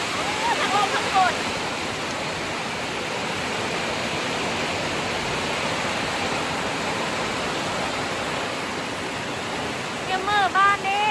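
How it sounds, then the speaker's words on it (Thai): Steady evening rain and wind in a rural Thai home, a dense, even hiss that fills the whole stretch, with a few faint chirps over it near the start and end. "ทั้งลมทั้งฝน"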